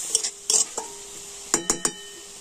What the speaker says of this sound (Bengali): তো হলুদ আর লবণ দিয়ে আমি সবকিছু কিন্তু ভালোভাবে নাড়াচাড়া করে নিচ্ছি